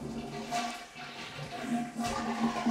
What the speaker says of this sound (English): to flush the toilet